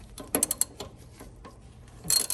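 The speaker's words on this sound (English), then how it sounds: "I'm taking a 9/16 socket, going over that," A 9/16 socket wrench ratchets on a front shock absorber nut of a 1985 Chevrolet Caprice Classic, producing a quick cluster of close metallic clicks and a final louder burst.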